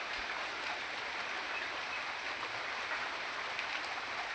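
Steady heavy rain keeps pouring around a waterlogged home yard, an even, unbroken hiss of falling water at moderate distance with no pauses.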